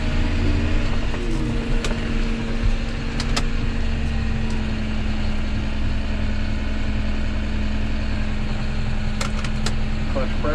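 John Deere 6210R tractor engine running steadily while driving, a loud constant low drone with a persistent hum and occasional rattles, with people talking over it.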